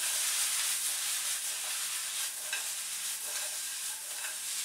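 Chicken and vegetables fry and are stirred in a pan for a paprika cream chicken dish, giving a steady bright sizzle with scraping strokes of stirring throughout, close up and with no talk.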